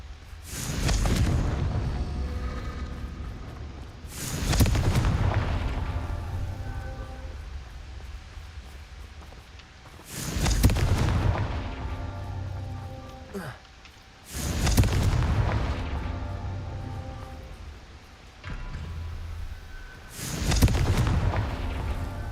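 Repeated heavy booms from the Confringo fire spell in Hogwarts Legacy, several separate explosions seconds apart, each loud and rumbling before fading.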